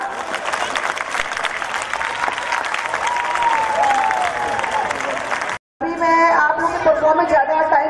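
Loud, sustained audience applause and cheering fill a dance competition hall at a film promotion event. It runs steadily, breaks off for a brief moment, then resumes with a thinner crowd texture.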